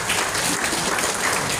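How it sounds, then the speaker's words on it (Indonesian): A hall full of people at a neighborhood development planning meeting in a hotel applauds, a dense, even wash of clapping that stays steady and loud for the whole short stretch. "tepuk tangan dulu buat Pak RW"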